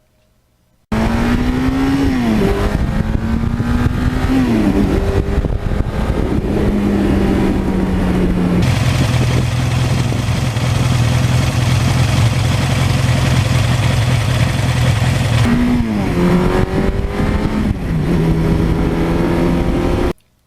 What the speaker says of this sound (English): It has been a bulletproof engine, a very, very low maintenance engine, and it just grinds out torque endlessly